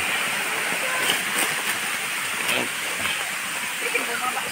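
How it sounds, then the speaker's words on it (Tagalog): Yaganak Falls waterfall, a steady broadband rush of falling water that holds constant throughout, with faint voices and small background sounds mixed in. "Ito yung tinatawag nilang Yaganak Falls."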